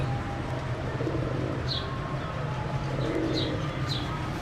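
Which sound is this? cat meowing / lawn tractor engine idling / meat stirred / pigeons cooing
pigeons cooing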